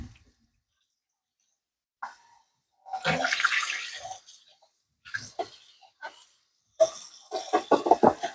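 Warm water running over and rinsing a removable part of a slow juicer, heard as short splashing bursts separated by quiet gaps, close and fairly loud.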